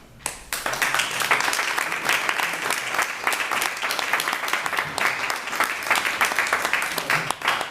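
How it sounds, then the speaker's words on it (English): An audience at a Southampton planning board meeting breaks into applause after a resident's comments, a sudden burst of many hands clapping that holds steady and fairly loud. "Stop the applause, yes."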